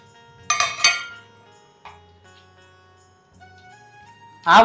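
Metal pots and utensils clatter in a few sharp bursts, with a faint clink between them and a louder bang of dishes at the end.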